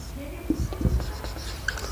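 Pen scratching across paper in short strokes, close and fairly loud, while a person speaks over it.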